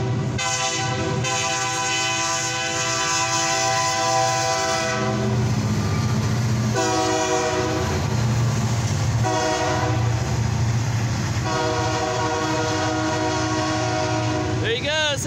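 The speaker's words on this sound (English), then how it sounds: "this is a CFE mixed freight steel train." An eastbound CFE mixed freight train carrying steel rumbles past close by, with a loud sustained horn blaring in long blasts over the heavy, continuous roar of rolling cars.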